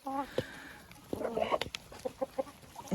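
Backyard hens cluck and chatter close by, a string of short, sharp clucks in an irregular rhythm with a few longer calls, while a person speaks softly among them.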